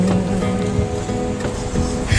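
Sea surf heard beside a jhau (casuarina) forest at Dublagori, a continuous washing roar of waves with a low rumble, steady and fairly close, with no talk.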